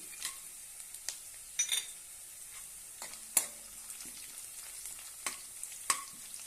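Peanuts frying in hot oil in a pan for curd upma, a faint continuous sizzle with scattered sharp pops and a few stirring scrapes, close by and with no talking.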